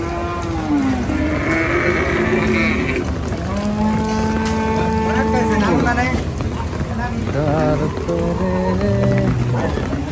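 Cattle lowing at a rain-soaked livestock market at Hazratpur haat, several long, drawn-out moos from more than one animal overlapping amid constant crowd noise and people talking.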